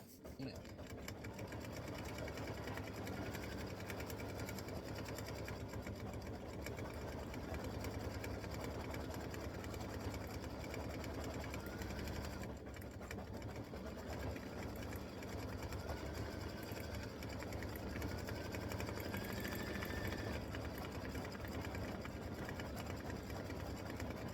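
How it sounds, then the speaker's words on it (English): An embroidery machine stitches the lips onto a Valentine bear applique for a paper towel holder, running as a steady, fast mechanical whir with a dense needle rhythm, close and continuous throughout. "this is going to stitch the lips right here in the center"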